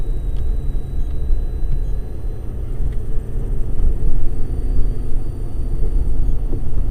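A Ford Ranger Wildtrak pickup drives on a wet road at about 50 km/h in second gear, giving a steady, loud, close engine and road rumble that swells slightly midway, with no voices.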